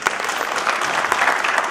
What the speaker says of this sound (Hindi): तालियों की जान डाल दीजिएगा इस महफिल में